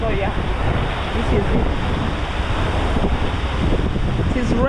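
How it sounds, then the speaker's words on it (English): Heavy waves and rain on Lake Victoria at night during a boat crossing from Mwanza to Bukoba, a loud, steady broadband wash of water and wind noise filling the whole stretch. "It is raining, like the waves are heavy."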